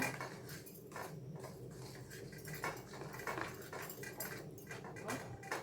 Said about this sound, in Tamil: தண்ணி சேர்த்துட்டு கட்டி இல்லாமல் கிளறிக்கோங்க